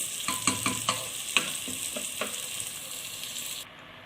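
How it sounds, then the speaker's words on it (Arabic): Onion sautéing in a pan while being stirred, frying until softened and pale yellow: a steady close sizzle with several sharp scrape-and-clack strokes from the stirring, before the sound cuts off. "نخلي البصلايه تدبل تصفر بس، ما نخليهاش تحمر او تغمق مننا"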